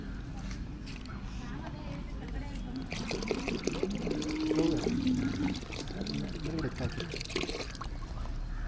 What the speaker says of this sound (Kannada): ನಂತರ 3/4 ಲೀಟರ್ ಎಳನೀರನ್ನು ಹಾಕಬೇಕು.